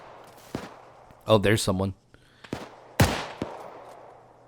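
Sporadic gunfire in the Arma 3 WWII game: a few isolated shots, one loud and close, others sharper and fainter, spaced apart, with someone speaking briefly between them.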